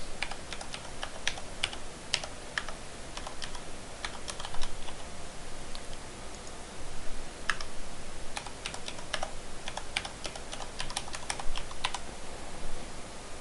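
Steady run of light, quick key clicks from a computer keyboard as a password is typed into Windows Server 2008 user setup, irregular taps and short bursts continuing throughout with no talk.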